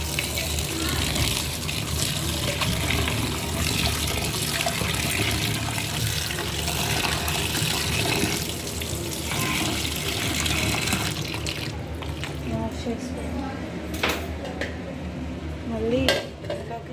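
Vegetables being washed under a running kitchen tap, with steady splashing water and occasional clinks of dishes and utensils in a sink, continuing close and busy before the flow thins near the end.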